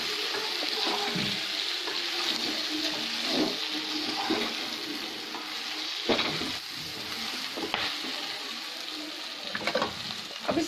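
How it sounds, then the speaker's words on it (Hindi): Okra fries and is stirred in a pan over a low to medium gas flame, a steady close sizzle with scraping bursts from mixing, no talking. "अब मैं इसमें भिंडी को डाल दूंगी।"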